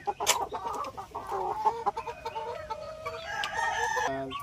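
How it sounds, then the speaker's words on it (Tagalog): Hens and roosters on a farm raising gamecock stags, with a loud crow rising over overlapping clucks and cackles, close by and busy, no talk. "Sa kabila naman ating mga inahin."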